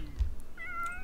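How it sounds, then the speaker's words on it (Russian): A cat in The Sims 3 gives a single clear, near meow with a rising, sung tone over soft game ambience, heard alone without talk. "Обалденный кот. Песни поет."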